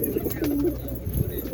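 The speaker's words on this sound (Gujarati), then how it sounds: "કબૂતર નીચે ગળીને બેઠા હે." Pigeons sitting down low give soft, throaty coos nearby, a low warbling call rising over a steady background murmur, without anyone speaking.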